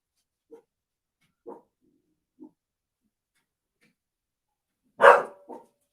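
Dogs at home bark at someone at the door: a few faint, widely spaced single barks from somewhere in the house, then one louder, closer bark followed by a short yap, with silence between them.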